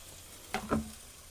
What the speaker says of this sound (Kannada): ಸ್ವಲ್ಪ ಈರುಳ್ಳಿ ಟೊಮೊಟೊ ಹಾಕ್ತಾ ಇದ್ದೀನಿ ನಾನು